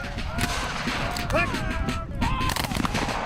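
A rifle volley goes off on command in a Civil War era setting, with sharp reports over shouted orders and a busy background of voices.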